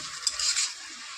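Carrot stirred in hot ghee in a wok over low heat for carrot laddoos: a close, steady scraping and soft sizzling that swells in the middle and then settles, with no talk.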